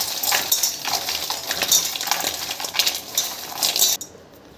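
Salted cashews are stirred in a bowl with black salt, a little chili powder and chaat masala, giving a steady, busy rattle of nuts and clinking utensil for about four seconds before it stops abruptly.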